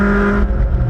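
Toyota MR2 race cars at Brands Hatch give a loud, close engine drone with strong steady tones for about a second, the pitch shifting slightly as a car passes.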